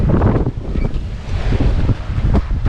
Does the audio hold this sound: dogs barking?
no